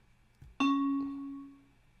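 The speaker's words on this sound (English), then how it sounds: "I'm using a bell because it'll be clear to hear" A single synthesized bell note from FL Studio rings out clearly and decays smoothly over about a second and a half, after a soft thump.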